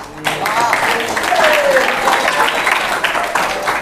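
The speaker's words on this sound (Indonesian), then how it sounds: "Boleh kita berikan tepuk tangan lagi." Audience in a hall during a Ramadan tarawih sermon program applauds a participant, steady dense clapping that lasts the whole moment, close and loud, with a few voices mixed in.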